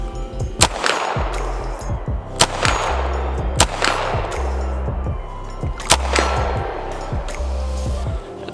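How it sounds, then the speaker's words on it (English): UZI PRO pistol fired at a 50-yard target outdoors: five or six sharp, loud reports spaced roughly a second or more apart, each with a ringing echo tail over a steady low hum. "Now let's try rocking some 50-yard shots, just because, why not?"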